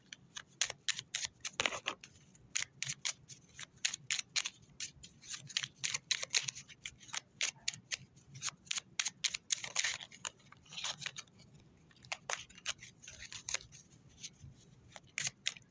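Tarot cards are shuffled in a quiet room, a long run of quick, crisp riffling and tapping bursts in an irregular rhythm, with no voices over it.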